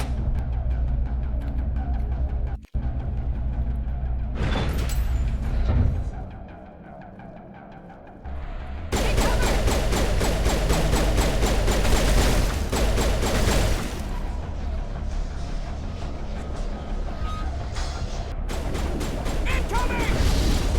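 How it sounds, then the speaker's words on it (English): Grenade explosions and weapon fire in a modded Mass Effect 1 fight: heavy, sustained booms and bursts of combat noise, loud and dense, with a brief lull partway through before the clamor returns. "Wasting all my grenades on these folks."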